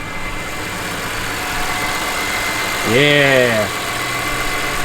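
A BMW M3 E46 engine idling steadily, a continuous even rumble close by with a brief voice over it partway through.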